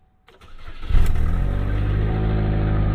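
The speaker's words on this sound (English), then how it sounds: "We are now cranking the vehicle." A 2010 Chevy Malibu LT with a 2.4L engine and an exhaust leak cranks briefly, then catches and settles into a loud, steady idle that continues to the end.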